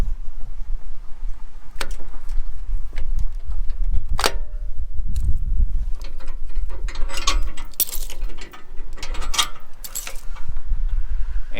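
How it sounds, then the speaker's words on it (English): A jack raising a Jayco 24MBH travel trailer after unhitching, with loud close mechanical clanks and ratcheting clicks at an irregular pace over a low rumble. "And you begin to lift the trailer up."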